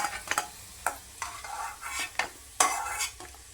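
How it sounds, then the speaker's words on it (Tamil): Dried red chillies fry in oil while a spoon or spatula stirs them, giving repeated scraping strokes against the pan over a steady soft sizzle, for tomato rice, with no talking. "இப்போ ஒரு 4 வரமிளகாய் போட்டுக்கலாம். அதையும் நல்லா பொன்னிறமாக வறுத்து எடுத்துக்கலாம்."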